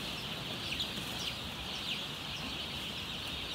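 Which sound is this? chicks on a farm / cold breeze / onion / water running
chicks on a farm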